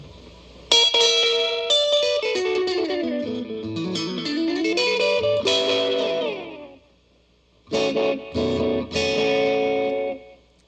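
Sustained electric guitar chords through a vintage Echolette NG51 S tube tape delay, a lush, repeating echo trailing off each phrase, a brief gap, then more chords ringing with the same echoes.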